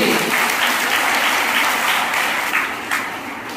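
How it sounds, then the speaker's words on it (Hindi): Audience applause at a school annual function, a thick steady wash of many hands clapping at moderate distance, easing slightly near the end. "तो मेरे ख्याल से एक जोरदार ताली तो बनती है लोगों की"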